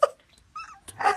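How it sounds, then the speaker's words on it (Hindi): A dog at a farmhouse gives short, close whimpers and a low growl in brief bursts separated by quiet gaps, ending on a louder rough snarl. "कैसा चिल्ला रहा है? दूसरा कुत्ता।"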